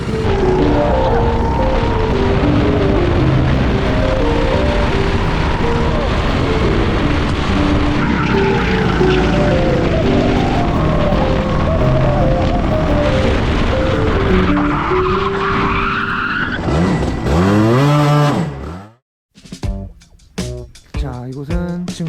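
Go-kart engines whine continuously at high pitch as the karts roar past on a kart circuit, with tires squealing, then a brief drop to near silence before the revving resumes.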